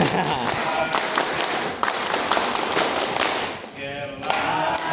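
A scout group claps the Pramuka clap in a quick rhythmic pattern, sharp bursts repeating close by with chanting voices mixed in.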